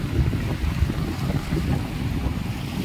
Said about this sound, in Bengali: শুনুন জলের আওয়াজটা